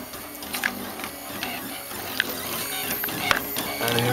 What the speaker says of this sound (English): And here it goes. It's printing. Pretty nicely.